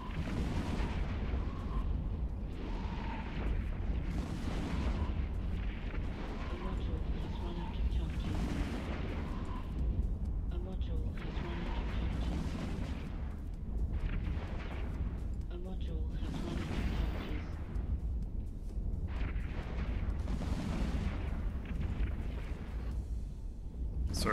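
Repeated weapon volleys in the space game EVE Online, broad booming bursts recurring every second or two across a continuous rumbling bed, with a voice talking over the battle.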